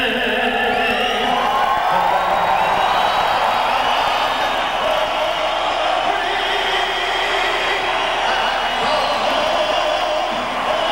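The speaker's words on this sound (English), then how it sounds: "An enthusiastic crowd here." A large, enthusiastic crowd cheers loudly and continuously at the opening ceremonies of a new hockey arena in Manchester, a dense, sustained roar of voices filling the whole stretch.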